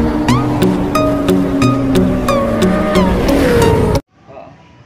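A Motorstar MXI 125 motorcycle with a suspected lost stator-to-regulator connection idles and revs close by, its engine note steady with small rises in pitch, with clicking and talk over it before it cuts off abruptly.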